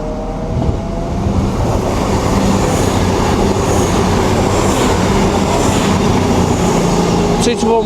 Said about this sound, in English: Pass through now will be a cross-country Voyager working service from Reading to York.